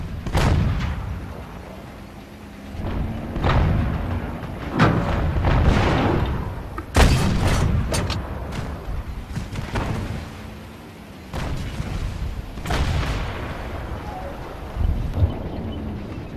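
Repeated heavy booms and blasts of tank and artillery fire in World of Tanks, some close and loud, others more distant, over a windy rumbling background with no talking.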